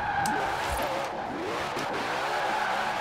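A Koenigsegg Jesko in Forza Horizon 4 drifts sideways, its engine droning loud and steady under a continuous tire squeal with brief skids throughout, close and without pause.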